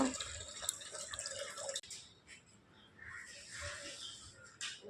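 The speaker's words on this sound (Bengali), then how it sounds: "বালতিটা ভরুক" Water runs steadily into a bucket outdoors on a calm morning, a continuous splashing flow with dripping, moderately close and alone without voices.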